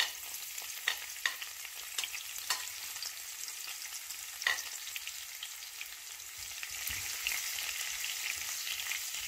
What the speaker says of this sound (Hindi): जीरा मेरा फ्राई हो गया, अब मैं इसमें डालूँगी लहसुन।